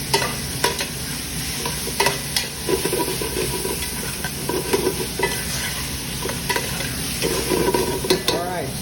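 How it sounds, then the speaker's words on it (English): Meat sears in a hot pan with a loud, continuous sizzle and hiss, broken by repeated scrapes and knocks of a utensil turning it; no speech is heard. "I want to get a good sear on there"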